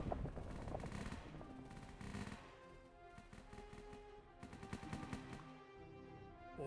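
Rapid gunfire rattles through a battle in the Soil indie real-time strategy game, with dense machine-gun bursts and overlapping shots that keep firing throughout.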